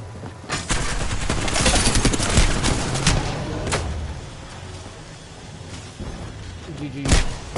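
Rapid bursts of gunfire crackle and boom through an Apex Legends ranked match, with dense overlapping shots and impacts through most of the stretch, sharp single blasts near the end.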